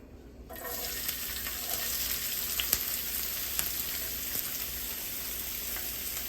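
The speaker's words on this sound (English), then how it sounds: "I'm gonna go ahead and add our seasoning into the pot next." Garlic, peppers, onions and thyme seasoning hit hot oil in a pot with a sudden steady sizzle that starts after a brief quiet moment and continues evenly, with faint crackles and pops throughout.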